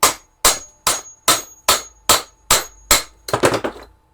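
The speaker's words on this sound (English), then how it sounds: "More hammer blows." Loud, evenly spaced hammer blows ringing on metal, eight strong strikes followed by a quick cluster of lighter hits.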